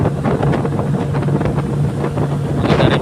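A loaded fishing boat's motor drones steadily under heavy wind rumble and buffeting on the water off Quezon Province, a constant low hum with no voices.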